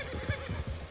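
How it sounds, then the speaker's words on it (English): A horse in the video game Red Dead Redemption 2 rears with a short, low, breathy whinny, brief and fairly faint, with no talking over it. "Your horse just reared at them!"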